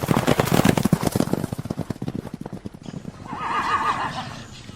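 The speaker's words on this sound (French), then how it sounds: "Par là passa un beau cheval d'Espagne, tout sellé, tout bridé." A Spanish horse, saddled and bridled, clip-clops steadily with close, loud hoofbeats, then gives a clear whinny as the steps fade, a theatrical sound effect for a fairy-tale reading.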